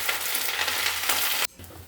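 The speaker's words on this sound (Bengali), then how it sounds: "পেঁয়াজটাকে খুব ভালো করে ভাজতে হবে" Sliced onions fry in oil beside dried red chillies, a close, even hiss and crackle that cuts off abruptly near the end, leaving only a quieter hush.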